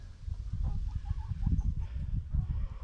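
Young pullets clucking in a backyard, a steady run of soft, close clucks and murmurs continuing for a few seconds with no talk over them.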